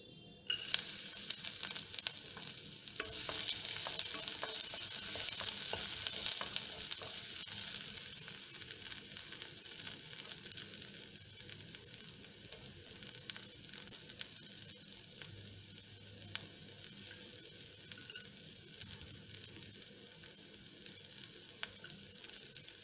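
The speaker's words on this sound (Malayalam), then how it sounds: "ആദ്യമായിട്ട് നമുക്ക് ചെറുതാക്കി അരിഞ്ഞു വെച്ചിരിക്കുന്ന ഇഞ്ചി വെളുത്തുള്ളി, അത് രണ്ടും ഈ ഓയിലിലേക്ക് ആഡ് ചെയ്ത് കൊടുക്കാം." Chopped ginger and garlic sizzle in hot oil for chilli beef, a loud hiss that starts abruptly and settles into steady crackling frying for the whole stretch, with faint stirring.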